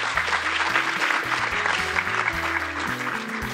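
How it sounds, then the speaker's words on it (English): Live audience at a recorded podcast event applauding, a steady wash of clapping at moderate level with a faint low tone running beneath it. "Let's give these guys a big round of applause."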